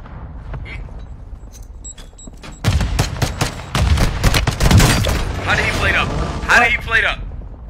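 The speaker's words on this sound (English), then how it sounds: "the grenade landed right next to this" A grenade blast and rapid gunfire in the Warzone video game, a dense burst of loud booms and shots that gives way to rattling fire, with a player talking over the action.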